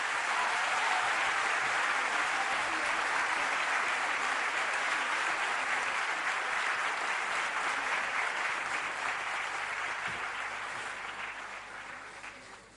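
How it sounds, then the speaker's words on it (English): Dense, even applause from an audience at a 2014 college event where Dr. A.P.J. Abdul Kalam was being felicitated. The clapping holds steady and fairly loud for about ten seconds, then fades out gradually. "A big round of applause, please."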